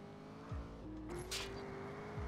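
A car engine in GTA San Andreas Multiplayer revs and climbs in pitch as it accelerates, faint and steady, with brief whooshes passing.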